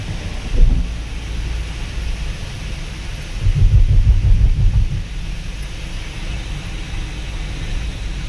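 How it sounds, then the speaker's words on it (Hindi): Steady, heavy rain roars as a dense wash of noise, with low rumbling swells rising twice, most strongly in the middle. No voices. "बारिश हो रही है बहुत तेज।"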